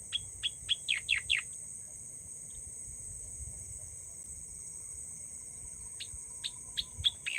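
A bird hidden inside bushes calls in two bursts of quick, sharp chirps, first a run of five or six, then a later cluster, over a steady high insect drone on a quiet morning.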